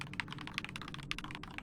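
Rapid clicks of a computer keyboard tapping out keystrokes as attacks in the game Excommunicated: quick, fairly quiet and close, with no voice.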